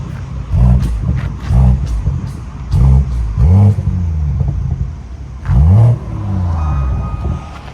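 A 2017 BMW 740i with a 3.0L turbo inline-six and muffler delete revs in about five short, loud blips, each rising and settling back to a deep, smooth idle rumble.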